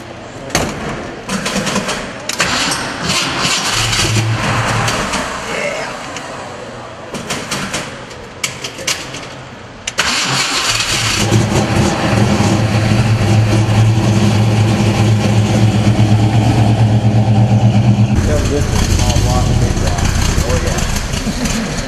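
A classic Ford car's engine cranks with uneven bursts, then settles into a loud, steady running rumble up close, while people talk over it in stretches.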